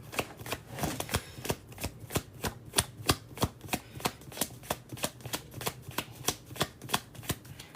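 A tarot card deck is shuffled in a quick, steady riffle, about twenty crisp card slaps in a regular rhythm, close and fairly quiet with no talking.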